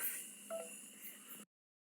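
A phone number is dialed on a handset, giving faint electronic tone beeps over a hiss that cut off abruptly, with no voices.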